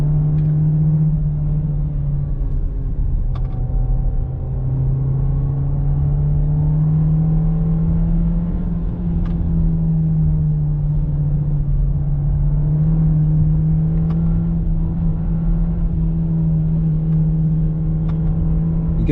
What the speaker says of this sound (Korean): 이게 터보 엔진임에도 불구하고 터보렉은 상당히 적은 편입니다.